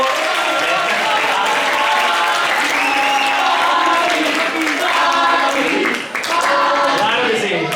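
A crowd at a poetry recital applauds for the musicians and choir, with loud, sustained clapping and cheering voices rising over it. A brief dip comes near the end before the noise swells again.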